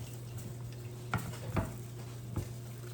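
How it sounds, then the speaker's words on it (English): Chopped vegetables tumble into boiling sugar-free pickle relish liquid, giving a steady close sizzle and bubble with a few sharp splashes and stirring knocks against the pot. "now we're going to add in our cut up vegetables"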